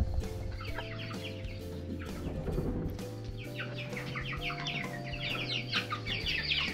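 Young Rhode Island Red chicks and hens on a farm clucking and peeping together, a steady close chatter of soft clucks with brighter cheeps layered on top and no voices.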